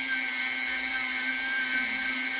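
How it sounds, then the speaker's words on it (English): A Dremel spinning a wire wheel runs at a high, steady whine, close and continuous, while it touches up metal axle parts from an XTM X-Factor RC truck. "We're going to have to touch these up by hand with the wire wheel on the Dremel."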